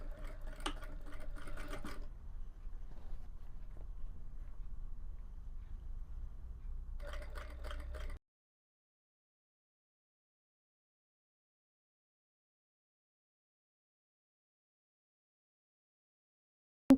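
A sewing machine stitches a folded fabric edge in two short rapid bursts separated by a quieter hum, then falls silent for the rest of the stretch.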